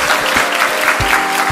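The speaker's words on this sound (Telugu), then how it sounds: "Give him a big round of applause." An audience at a company event for a plot development bursts into loud, dense applause, a continuous clatter of many clapping hands filling the whole moment.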